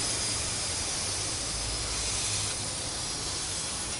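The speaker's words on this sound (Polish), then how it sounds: "jeszcze ucieka gaz z beczki. Słyszy, słyszycie to? Jak ucieka gaz?" A steady, forceful hiss of gas escaping under pressure from a beer keg during home brewing, continuous and close, with no voices.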